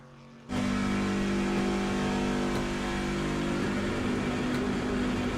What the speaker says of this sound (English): You hear the RPMs just sky high.